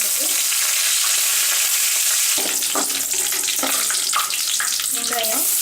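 Curry leaves and karuvadagam, a dried seasoning, hit hot oil in a pan and set off loud crackling and spitting sizzle that stays steady and close throughout, with sharper pops in the second half and no talking.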